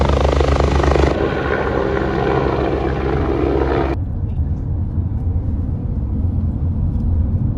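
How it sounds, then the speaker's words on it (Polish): Loud, steady rotor and engine drone of a helicopter close by, continuous throughout, with a change in tone partway through. "Jak widzicie jest tam nawet śmigłowiec."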